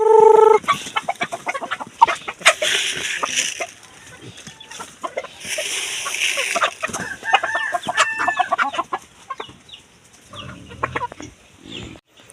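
Chickens cluck repeatedly in a busy farmyard, with a rooster crowing near the start and scattered clucks and calls continuing throughout.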